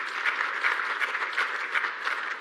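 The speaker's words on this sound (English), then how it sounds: "A round of applause for them, please." Symposium audience applauds at a climate resilience event, a steady, even wash of many hands clapping for a couple of seconds, moderately loud and without a voice over it.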